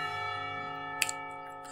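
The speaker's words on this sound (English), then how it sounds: "The clock tower bells rang," Clock tower bells in the visual novel Katawa Shoujo ring with a sustained, resonant tone that marks the end of a school period, steady and fairly loud with a small struck accent partway through.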